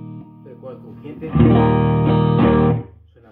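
A crunchy, overdriven electric guitar tone through a Fender Hot Rod Deluxe amp rings out, building into loud sustained distorted chords before trailing off.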